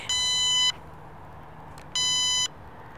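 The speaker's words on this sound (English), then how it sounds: "It's just beeping like randomly right now." Two loud, high electronic beeps from a metal detector swept over logs, each about half a second long, separated by a short gap over a faint background hiss.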